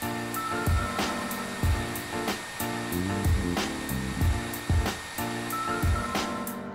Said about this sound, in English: Heat the flap up until it softens up.